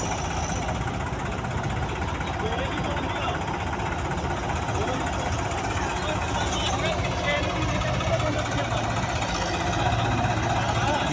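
A tractor engine idles steadily beside a wet paddy field, a continuous low rumble running throughout while people talk nearby.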